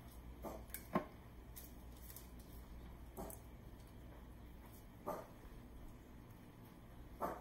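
A dog barks a few times in the background of a home kitchen, short faint yelps spaced a couple of seconds apart over a low steady room hum.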